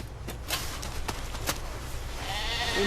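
Sheep bleating amid windy, noisy outdoor ambience, with a few short bleats standing out against a steady rushing background.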